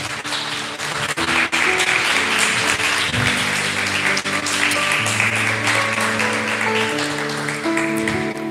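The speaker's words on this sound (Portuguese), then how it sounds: "Você pode aplaudir ao Senhor?" A church congregation claps during a service, with steady, sustained applause over music playing in the hall.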